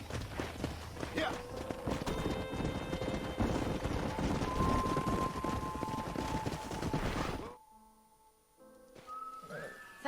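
Horse hooves clip-clopping in Red Dead Redemption, a steady stream of hoof beats under game music and talking voices, ending in a brief lull before quieter sounds return.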